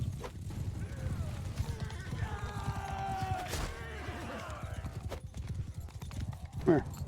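Cavalry horses gallop in a medieval battle in the video game Mount and Blade 2 Bannerlord, a dense steady drumming of hooves with battle noise and a horse whinny, while a player talks over it.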